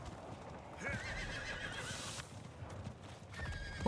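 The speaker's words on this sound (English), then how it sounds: "Horse go fast." Horse galloping with clip-clop hoofbeats and a whinny in the video game Diablo 4, the hooves steady and close while game effects play over them.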